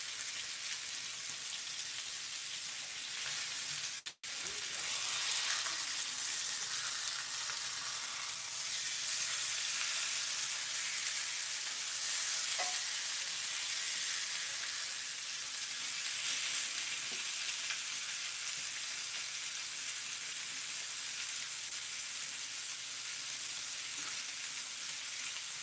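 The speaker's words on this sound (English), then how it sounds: "That sounds like a really good equal sizzle, right?" Steak and potatoes sizzling in a cast iron pan, a steady, moderately quiet frying hiss with faint crackles and one sharp click near the start.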